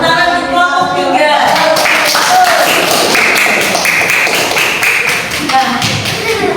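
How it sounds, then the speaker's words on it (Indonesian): A classroom of students claps for a group that has just presented, giving sharp, close, uneven hand claps and taps at full volume while someone talks over them. "Berikan tepuk tangan untuk kelompok 3."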